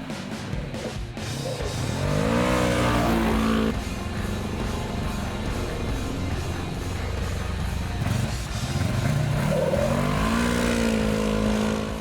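A Segway AT10 1000 ATV quad accelerating hard on asphalt, its engine revving up through rising pitch sweeps, easing off briefly, then climbing again, loud and close throughout.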